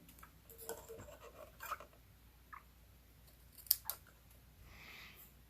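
Scissors make a few quiet, sharp snips through patterned paper while a gift box is crafted, with soft handling rustle between the crisp cuts and no voices.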